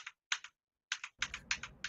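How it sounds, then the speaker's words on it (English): Keys clatter on a mechanical computer keyboard in short, quiet bursts of crisp clicks, a few isolated strokes followed by a quicker run of typing, close and alone without speech. "the mechanical keyboard is how we can get there"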